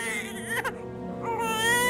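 An infant cries in a domestic scene from a Pakistani drama, with a steady, close, wailing sob that breaks briefly midway and then rises louder toward the end.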